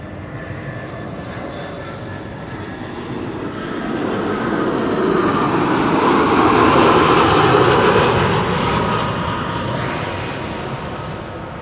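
Airliner G-EZGO's engines roar at Amsterdam Schiphol, a broad, steady rush that swells loudly in the middle and then fades slightly as it passes.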